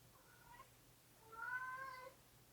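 A pet cat named Pippi gives two faint, soft meows, the second longer and rising, close by in a quiet room.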